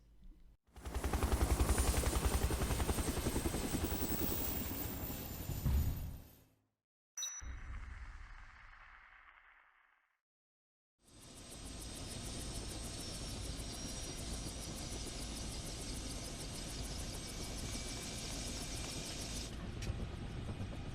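A helicopter in Dead Rising Deluxe Remaster, steady rotor and engine roar, loud and close, cutting out briefly before returning as a sustained drone with a faint chime.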